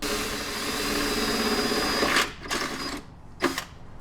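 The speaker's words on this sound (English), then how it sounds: "go ahead and start drilling it." A power drill with a 3/8 bit bores a hole in a Toyota Tacoma fender, a steady whirring grind that runs continuously, then stops and gives way to a couple of short bursts, with no talking.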